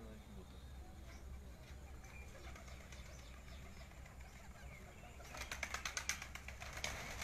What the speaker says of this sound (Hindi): बड़े मुश्किल निकल रहे हैं यार कबूतर उड़ने।